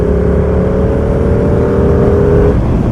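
A Ducati motorcycle engine pulling hard in sixth gear on an Indian road, a loud sustained roar with a steady rising tone that holds for a few seconds, heard up close.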